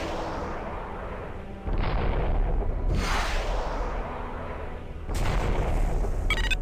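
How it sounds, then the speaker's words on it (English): Interceptor missiles launch in Descent: FreeSpace against a freighter's weapon subsystem, with several loud, booming shots and whooshing bursts arriving in quick succession over a constant engine rumble. "Now, fire your interceptors until the weapon subsystem has been destroyed."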